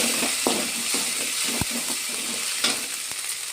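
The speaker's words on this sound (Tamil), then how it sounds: "இஞ்சி பூண்டு போட்டு நல்லா வதக்கிக்கோங்க" Ginger and garlic sauté in a pan for an egg curry, a steady bright sizzle with occasional stirring scrapes and clicks, close and continuous with no talk.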